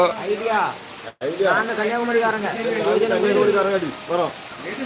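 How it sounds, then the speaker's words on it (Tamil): Heavy rain falling in Kanyakumari, a steady hiss beneath someone talking continuously close by throughout. "கன்னியாகுமரியில நல்ல மழை"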